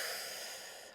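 One person draws a single deep breath in during a calm guided breathing session, a smooth, close airy inhale that fades out after about a second.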